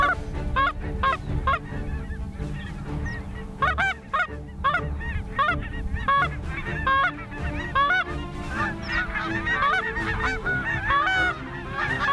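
A flock of geese honks continuously, many overlapping calls close by, busy and loud throughout.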